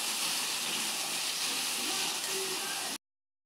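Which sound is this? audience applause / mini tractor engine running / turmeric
turmeric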